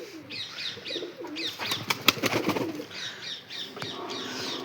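Pigeons in a loft coo repeatedly in soft rolling phrases while wings flap in a brief loud burst midway, heard close and without talk.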